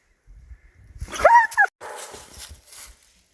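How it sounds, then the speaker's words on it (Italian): A dog gives a short, sharp bark and a whimpering yelp nearby on a mountain hike, reacting to chamois, followed by quieter rustling. "la reazione del Faruqi è stata quella di abbaiare e di spaventarli"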